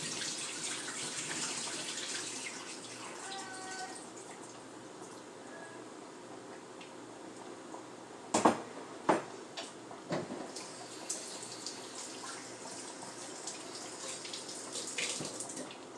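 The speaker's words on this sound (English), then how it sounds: "So I've pulled the water off of my shrimp." Water is poured off cooked shrimp into a kitchen sink, a steady splashing gush over the first seconds that settles into softer running water, then several sharp clatters and thumps of the pot and sink.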